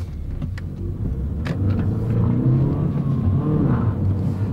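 A Honda car accelerates with a steady, close engine rumble that builds in loudness and holds strong to the end, with no voices over it.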